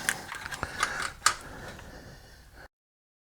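Ratchet wrench loosening a bolt in the engine bay of a Pontiac Grand Prix with an LS4 engine, a few quick irregular clicks and metallic ticks, close and fairly quiet, ending abruptly.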